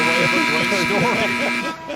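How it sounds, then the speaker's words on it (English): A loud, sustained final buzzer at an NBA game between the Los Angeles Clippers and Minnesota Timberwolves blares for about two seconds over crowd noise and an announcer's voice, then cuts off. "The final buzzer, and the Clippers are winners"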